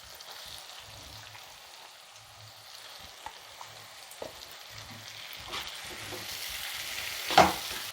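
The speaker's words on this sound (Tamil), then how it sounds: "இப்போ நம்ம இறாவை போட்டுக்கலாம்." Prawns sizzle steadily in a hot pan while being cooked for prawn thokku, with an even crackling hiss and occasional stirring scrapes that build to a louder burst near the end, and no voices.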